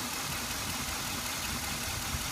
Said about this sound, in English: I believe this is a V8 engine.